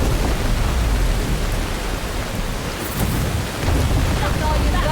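Steady heavy rain with low thunder rumbling in the Skyrim video game, a dense, loud, continuous wash of noise with no clear talk.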